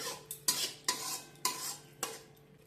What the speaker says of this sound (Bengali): একবার ঢাকাটা তুলে সব কিছু আমি ভালোভাবে মিশিয়ে নিলাম